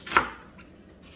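A single sharp knife chop through a red onion, cutting it into rough cubes on a board, close and isolated, followed by quiet.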